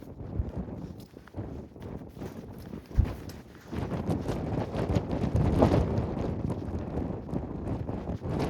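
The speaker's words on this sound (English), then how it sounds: "It's a bit windy." Wind buffets the microphone in a constant low, rough rumble for the whole stretch, with one sharp thump partway through and no voices, in the South San Juan Wilderness.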